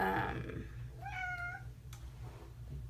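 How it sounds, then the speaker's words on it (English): One short, rising meow from a cat nearby, heard against a quiet room's low background hum. "sorry, it's my cat"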